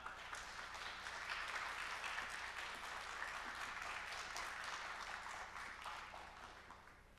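A church congregation at a Wednesday prayer meeting applauds to welcome a visiting pastor, giving sustained, even clapping from a crowd that fades slightly at the end.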